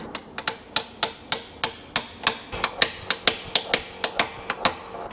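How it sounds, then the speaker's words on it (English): A slide hammer taps a part back into a Mercedes W204 C63 engine during a rebuild, giving a steady rhythm of sharp metallic knocks, about four per second, close and loud with no speech. "You slide hammer that back in there and you hear the noise change"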